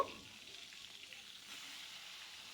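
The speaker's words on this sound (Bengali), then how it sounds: "সেই মাছগুলোকেও আমি লাল লাল করে ভেজে নেব" Fish pieces frying in hot oil for a mango fish curry give a quiet, continuous sizzle and crackle that holds steady for a couple of seconds.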